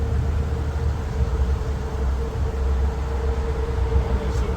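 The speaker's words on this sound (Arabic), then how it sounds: "ما شاء الله شو ذا قطار" A train running past in Riyadh gives a steady, loud rumble with a sustained mid-pitched tone, continuous throughout with no voices.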